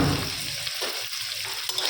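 Potato and cauliflower frying with green chilli and salt, no turmeric, a steady close sizzle of hot oil running throughout with faint stirring scrapes.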